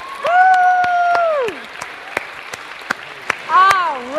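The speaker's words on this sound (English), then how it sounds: "Let's give them a big round of applause." Audience applause and cheering at a school reading program, brief claps and whoops broken up by loud drawn-out voices calling out near the start and end.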